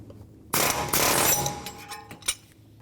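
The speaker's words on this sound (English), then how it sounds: "I'm going to use a pneumatic fed clutch tool" Pneumatic fan clutch tool loosening the radiator fan clutch on a 1997–2004 Dodge Dakota, a loud close rattling air-tool burst lasting about a second, then fading clatter and one short final hit.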